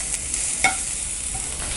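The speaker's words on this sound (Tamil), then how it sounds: "பூண்டு நல்லா ஃப்ரை பண்ணிக்கணும்" Garlic frying in a pan of oil for a Tamil potato fry, a steady soft sizzle with one brief stir or clink partway through.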